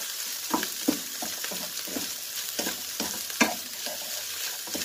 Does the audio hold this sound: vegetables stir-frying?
yes